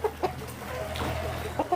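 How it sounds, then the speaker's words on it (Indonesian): Chickens on a home farm cluck in short repeated bursts, a couple of quick calls at the start and again near the end, close by over a low outdoor background. "Ini ayam pada nyamperin juga"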